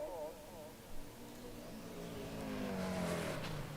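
Racing cars lap the circuit at the Thunder Down Under race, a steady engine drone rising in pitch as the pack approaches, with a commentator talking over it throughout.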